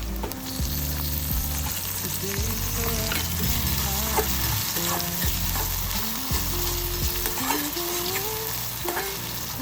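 Tomatoes tip into hot oil with cumin seeds and onion in a pan, bringing a loud steady sizzle broken by scraping stirs and clinks of a utensil, close and continuous with no talking.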